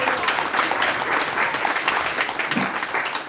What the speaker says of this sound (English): They deserve a bigger round of applause than that.